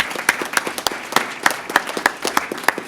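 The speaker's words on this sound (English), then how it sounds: "a round of applause for Sharif and all the guys up here" Applause at the MSU Comics Forum for the committee members onstage, with a modest audience clapping in uneven, distinct claps rather than a dense roar, fairly close and steady for the whole stretch.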